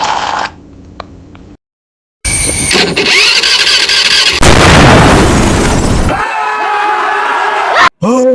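A scooter engine cranks and sputters to life with loud pops and a rough, rattling idle, broken by a short silence and abrupt cuts, close and harsh.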